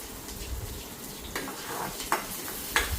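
Garlic and onion fry in a pan with a soft, continuous sizzle and a few brief scraping stirs, faint and close with no talking.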